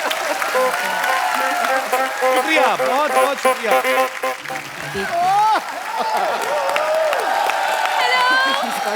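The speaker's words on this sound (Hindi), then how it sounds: "जोरदार तालियां एक बार।" A studio audience on a comedy show claps and cheers loudly, with whoops rising over the clapping while a voice speaks repeatedly through the noise and music-like tones weave in.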